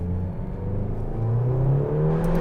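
A McLaren GT engine revs hard up close with a loud, rising roar. The pitch climbs, drops at a quick gear shift, then climbs again.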